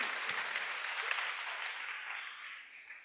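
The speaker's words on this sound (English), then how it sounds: "Let's give her a round of applause." An audience at an oratorical competition claps for a speaker, a dense, steady round of applause that fades slightly toward the end.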